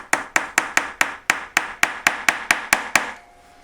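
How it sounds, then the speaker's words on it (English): A pin hammer tapping on a jeweller's bench peg to drive out a broken drill bit: twelve sharp, evenly spaced metallic taps, close and loud, then stillness. "Pin hammer should be enough for this."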